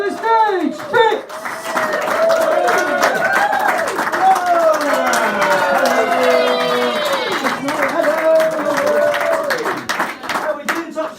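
A stand-up comedy audience in Topsham claps, whoops and cheers: steady applause under lively overlapping shouts and rising and falling whoops.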